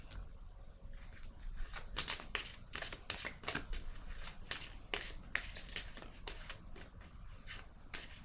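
Cards riffled and handled during a tarot-style card reading, a close run of crisp flutters and snaps in quick irregular bursts, with faint background hiss.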